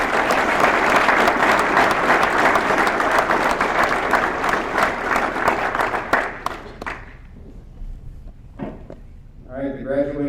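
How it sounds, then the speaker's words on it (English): Applause rises from the crowd at a US Border Patrol academy class graduation for award recipients, dense, loud clapping that dies away after about seven seconds, leaving quiet before a voice starts speaking at the end. "Please join me in giving all of the award recipients a round of applause"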